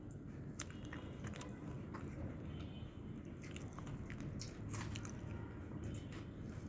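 Close chewing and squishy biting of chili leaf bhorta with rice, alongside green chilies and vegetable khichuri, soft wet mouth sounds repeating steadily with faint crisp crunches, no talking.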